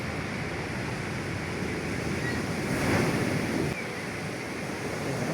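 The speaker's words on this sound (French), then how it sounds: "c'est à cause de ce genre de vagues que je n'avais pas envie de reprendre l'annexe" Sea waves break and wash in a continuous roar off Guadeloupe in stormy conditions, with a swell peaking near the middle and wind buffeting the microphone throughout.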